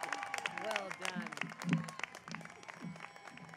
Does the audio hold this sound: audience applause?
yes